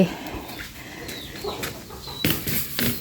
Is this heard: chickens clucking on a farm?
yes